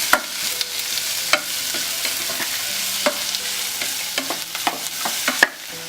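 Mustard seeds and onion sauté in a pan, a steady sizzle under repeated scraping and stirring strokes from a utensil, close and fairly loud with no talking.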